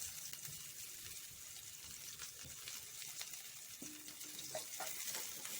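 Chopped onion fries in hot oil for an egg curry, making a soft, continuous sizzle with occasional light stirring scrapes, faint and close.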